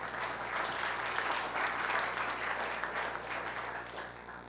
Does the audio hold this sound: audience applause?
yes